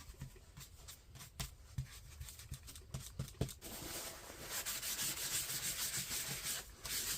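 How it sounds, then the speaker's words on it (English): A brush rubs powder over a raised stencil in quick, close scrubbing strokes, first in separate bursts and then as a denser continuous rub. "Just kind of rub it in."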